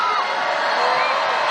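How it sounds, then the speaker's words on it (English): A basketball arena crowd at a women's college game between UConn and Marquette roars in a loud, sustained ovation with cheering and whoops as a returning player walks onto the court. "the crowd, that huge ovation"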